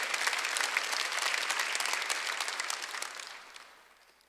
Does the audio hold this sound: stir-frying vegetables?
no